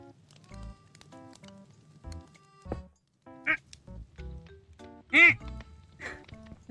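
A person imitating a duck's quack with the voice during a Minecraft modpack game, giving a few short nasal honks scattered among soft clicks and quiet murmured talk, with one louder quack standing out near the end.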